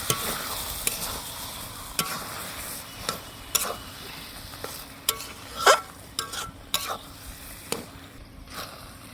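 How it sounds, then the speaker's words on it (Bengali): Taro being stir-fried with rohu fish head and spices in a pan: a close, continuous sizzle with repeated scraping and clinking strokes of a spatula, growing busier toward the end. "কচুটাকে আমি মশলার সঙ্গে, মাছের মাথার সঙ্গে সুন্দরভাবে কষিয়ে নেব"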